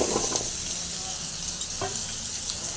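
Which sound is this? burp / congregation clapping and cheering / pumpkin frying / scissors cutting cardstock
pumpkin frying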